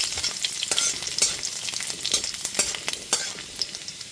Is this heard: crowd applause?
no